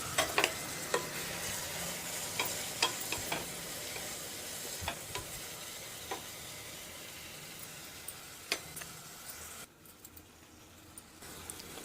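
Thinly sliced tomatoes frying in oil with onions and curry leaves for an eggplant curry, a steady close sizzle with scattered sharp crackles and pops and no talking.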